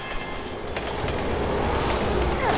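A train rumbles past in the video game Resident Evil 6, a continuous heavy rolling roar that builds slightly with faint metallic squeals near the end.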